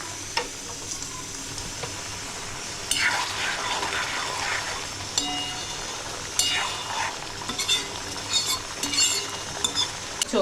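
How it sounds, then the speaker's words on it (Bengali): Hot water goes into a fish curry on the stove, bringing a steady sizzle with bursts of frying hiss and scraping stirring strokes, close and moderately loud, with no talk. "একটু গরম জল অ্যাড করলাম।"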